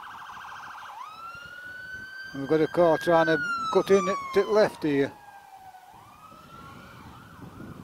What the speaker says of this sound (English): So we've got police, ambulance, and now we've got fire engine.